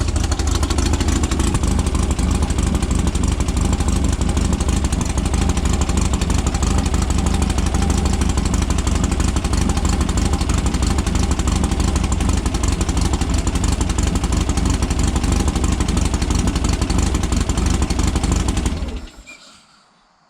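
A Mosquito engine freshly fitted with a new carburetor and spark plugs runs loud and close in an even, rapid, buzzing rattle for nearly twenty seconds, then cuts off abruptly.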